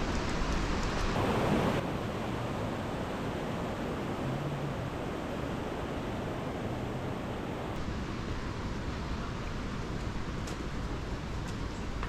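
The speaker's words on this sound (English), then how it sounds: "But the rain hasn't stopped, still drizzling." Rain drizzles steadily on a mountain trail near Lukla, Nepal, a soft continuous hiss filling the scene throughout, with a brief louder patter early on and no voices.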